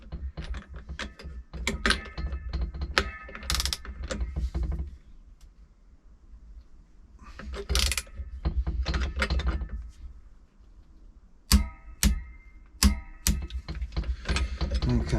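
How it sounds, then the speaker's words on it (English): A torque wrench set to 50 clicks as it tightens an 8-plate Rayspeed Python clutch on a Lambretta scooter. Sharp metallic ratcheting clicks come in close bursts, separated by quieter gaps. "Torque wrench, mine's set to 50. And what we're going to do is just pull that until it clicks."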